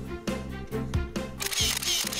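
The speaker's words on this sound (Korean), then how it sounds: "이때를 놓칠 새라 셔터를 누르기 시작하는데요" A single-lens reflex camera fires a rapid, evenly spaced series of close, loud shutter clicks as an elderly photographer shoots a bird that has just flown in.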